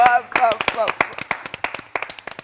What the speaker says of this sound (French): Mais on va quand même applaudir